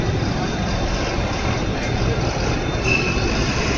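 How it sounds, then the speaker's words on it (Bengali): A metro train rumbles overhead on an elevated line above a street where several ambulances are stopped, a steady loud broadband roar with faint squeal, heard continuously throughout. "উপর দিয়ে মেট্রো যাচ্ছে।"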